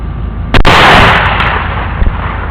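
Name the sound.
suppressed .223 rifle shots, 55 grain rounds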